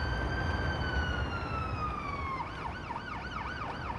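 Ottawa-type ambulance siren in an ambulance video game, first a long steady wail, then switching to a fast, rising-and-falling yelp, heard at moderate distance over a constant low rumble of road noise.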